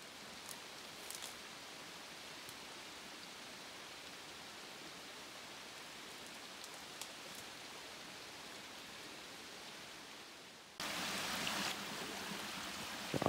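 Steady soft rain hisses over a wooded hillside beside a small stream, a faint, even wash of noise that suddenly grows louder and brighter near the end, with no voices.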